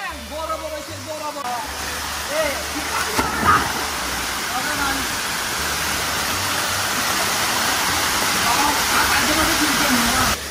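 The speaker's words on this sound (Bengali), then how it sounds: "ভাই ব্রাদাররা হচ্ছে অলরেডি ঝর্ণার মধ্যে মজা করা শুরু করে দিয়েছে" The Fokir Murong waterfall at Kaptai pours in a constant rushing hiss of falling water that swells slightly toward the end, with people's voices and splashing mixed faintly under the roar.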